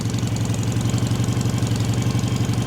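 A 1967 BSA A65 Thunderbolt motorcycle engine with electronic ignition idles steadily after start-up, its low, even thumping pulse running close and loud throughout with no talk.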